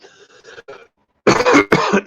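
Several harsh coughs burst out loudly and close, following a quieter stretch of muffled sounds and a brief silence.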